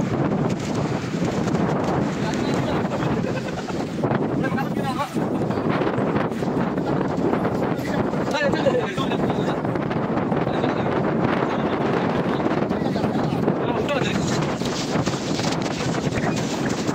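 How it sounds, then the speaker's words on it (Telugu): Sudden storm at sea aboard a fishing boat, heavy wind buffeting the microphone in a constant loud roar with gusts, rain and splashing water mixed in. "ఈ గాలి వానలు మాకు రెస్ట్ అనమాట."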